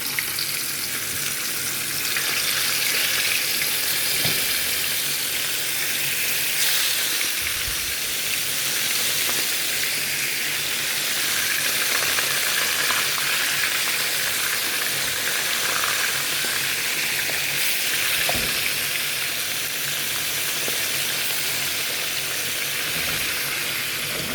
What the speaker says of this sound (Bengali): তো এখন মাছটা বাজবো